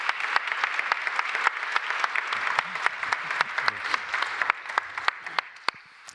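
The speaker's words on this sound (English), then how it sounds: "I think we should give this excellent panel a really warm round of applause." An audience at a science facility summit gives a panel a warm round of applause, a dense bed of clapping with many crisp individual claps near the front, fading slightly toward the end.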